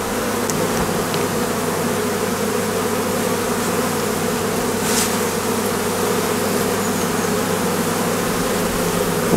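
Honey bees swarming around a swarm trap frame of honeycomb: a dense, close, unbroken buzz of many insects humming steadily throughout, with no voices.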